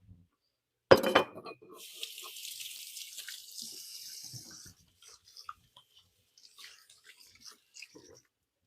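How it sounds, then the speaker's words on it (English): Tap water runs steadily at a kitchen sink as hands are washed under it, starting with a sharp clink and lasting a few seconds before stopping, followed by faint handling noises. "Now wash my hands."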